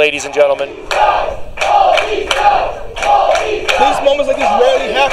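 A wrestling crowd at an indoor tag-team match chants and shouts in rhythmic bursts, loud and close, with an announcer speaking over the noise.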